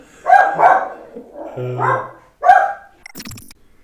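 A dog barks several times in short bursts, fairly close and loud, with a brief whine between barks and a lone voice near the end.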